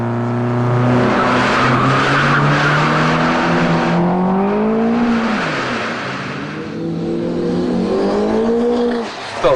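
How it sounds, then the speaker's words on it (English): Modified Nissan Skyline GT-R racing a Lotus, engine roaring loud and close throughout with rising and falling revs as it accelerates through the gears, tyres briefly spinning. "Bit of wheel spin."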